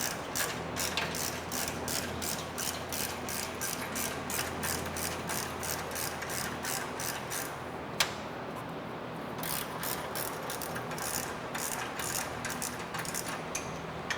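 A ratchet with a 6mm hex bit turning bolts loose on the exhaust of a Porsche 991 GT3, giving a fast, steady run of close clicking with a brief pause midway, no talk.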